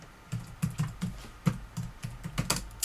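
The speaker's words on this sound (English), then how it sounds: "So I type my password in," Steady, evenly paced keystrokes on a computer keyboard entering a password, roughly a dozen crisp close taps with a slight thump under each, no talking.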